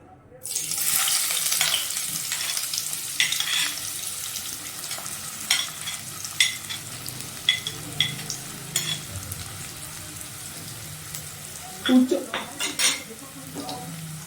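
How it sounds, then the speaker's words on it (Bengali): Chopped onions are dropped into hot oil and fry with a loud, steady sizzle that slowly settles. Clinks and scrapes of a utensil against the pan break in now and then, close by, with no talking. "তেল গরম হয়ে গেছে, এবারে প্রথমে আমি দেব কুচনো পেঁয়াজ।"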